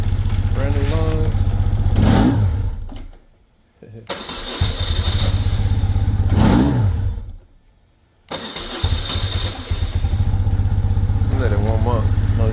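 A BMW motorcycle engine with carburetors and brand-new fuel lines idles steadily as it warms up, loud and close, with two brief drops where the engine note nearly cuts out before picking back up; someone talks intermittently over the running engine.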